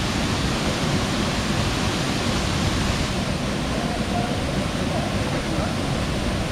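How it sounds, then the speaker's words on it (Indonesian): A waterfall in Indonesia, its flow reduced by a pipe diverting water to a village, roars as a steady, dense wash of broadband noise that stays loud and unbroken throughout. "katanya air terjunnya tadinya tuh lebih besar, besar banget"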